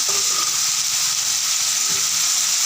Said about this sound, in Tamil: தக்காளி போட்டுக்கணும். அடுத்தது கருவேப்பிலை கொஞ்சம் போட்டுக்கணும்.